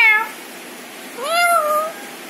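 Two meows sound close and clear in a quiet room, a short one followed by a longer, rising-falling one, with no talk.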